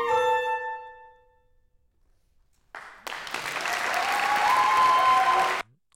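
Applause at full, unattenuated volume bursts in after a faded musical note and a pause, a sustained loud crowd clapping that cuts off abruptly.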